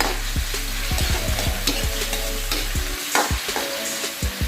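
Pork frying in a pan for adobo sizzles loudly and close, with a low steady hiss and repeated scraping strokes of a utensil stirring the meat.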